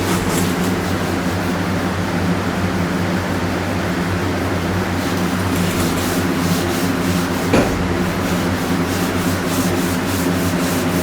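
A Scotch-Brite pad scuffs the rough area of an MGA car body panel before painting, giving a steady, continuous abrasive rubbing over a low background hum, with a brief sharper scrape near the end.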